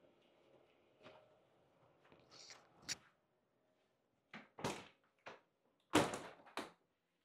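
Metal apartment door handled and shut, starting with faint shuffles and a light knock, then a burst of sharp clanks and a loud metallic bang with rattling, close by in a quiet room.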